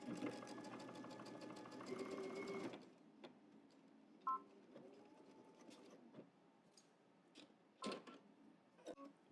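Sewing machine stitching a seam, with back stitching to the end: a dense, rapid mechanical whirr of needle strokes for a few seconds, then it stops, leaving quiet scattered clicks and handling noises close by.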